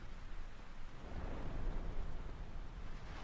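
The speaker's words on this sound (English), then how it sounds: "It's raining and everything." Steady rain hiss with a low rumbling swell of thunder building in the middle, continuous and fairly loud with no voices, in the video game Grand Theft Auto: San Andreas.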